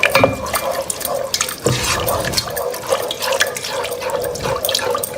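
Milk pours into a pan of sauce for a beef bolognese lasagna. There is a close, continuous liquid splashing and gurgling, loud and unbroken, with a brief heavier splash partway through.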